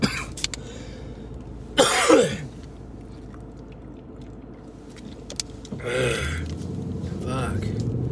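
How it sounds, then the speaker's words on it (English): A person coughs twice in harsh, loud bursts several seconds apart, with quieter breathing and mouth noises between and a voice trailing after the second cough. "Yeah, I still got that cough."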